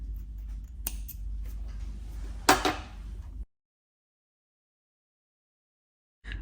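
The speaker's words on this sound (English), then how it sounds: "cut that extra thread" Scissors snip through crochet thread close by, a sharp cut near the middle amid light handling noise, then silence.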